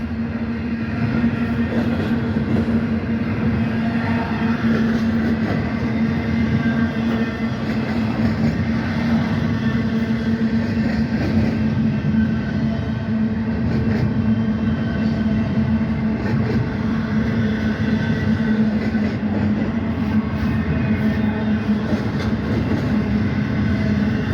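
A manifest freight train with a mid-train DPU passes close by as a loud, continuous rumble of rolling wagons with a steady tonal hum, unbroken for the whole stretch, with no voices.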